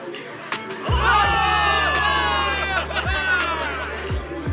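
Crowd of soldiers cheering in the Zenless Zone Zero game, a loud sustained roar of many voices with shouts that swells after a brief pause and holds steady, low rumbling bass beneath.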